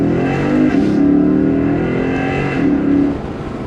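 A 2012 Lexus IS F engine revs hard while driving, a loud, steady mid-pitched drone that swells and eases over a few seconds with no talking.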